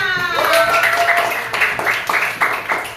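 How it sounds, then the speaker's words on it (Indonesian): A class of students claps hands together in a classroom, rhythmic bursts of clapping with voices and a tonal cheer mixed in, fairly close and lively. "sekarang coba kita tepuk tangan untuk semuanya"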